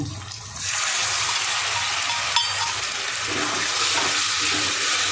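Mixed sauces for chilli soya are poured into a hot pan, setting off a sudden, steady hiss and sizzle that holds for several seconds, with one brief clink partway through.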